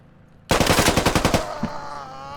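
Automatic rifle fire in the Squad military shooter on the Narva map, a sudden close burst of about ten rapid, evenly spaced shots that cuts in sharply and then rings out into a fading tail.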